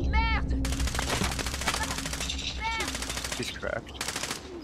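Gunfire in the video game Call of Duty Warzone rattles in rapid automatic bursts, dense and continuous at close range, while players talk over the shooting.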